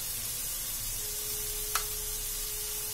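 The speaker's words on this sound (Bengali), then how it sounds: "আবারও এটাকে আমি কষতে থাকব।" Ground spices for chicken tikka masala (Kashmiri chilli powder, black pepper, garam masala, salt and turmeric) fry in a pan with an even, steady hiss and one sharp click partway through.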